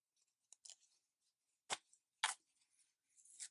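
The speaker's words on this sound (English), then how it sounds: "We'll cut through some denim." Swiss Army knife with a Tanto blade slicing through denim, a few quiet, crisp scraping cuts separated by short pauses, close and alone.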